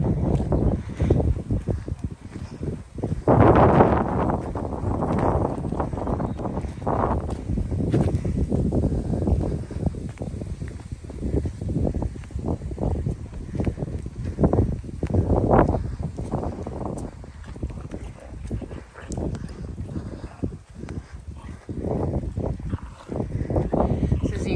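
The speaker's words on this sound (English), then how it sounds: "Very, very windy." Strong, gusty wind buffets the microphone with a continuous roar, and voices are heard faintly beneath it.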